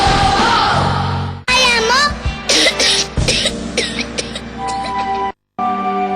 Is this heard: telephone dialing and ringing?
no